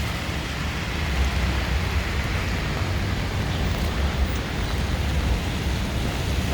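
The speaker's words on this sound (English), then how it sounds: "There's a lot of rain coming down." Heavy rain pours down on a downtown Chicago street in Streeterville, a dense steady hiss of drops on pavement with faint traffic rumble underneath, loud and unbroken throughout.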